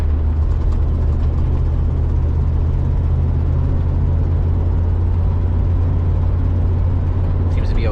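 A vehicle engine rumbles loudly and steadily with a heavy low drone, a rough uneven running note under someone talking throughout.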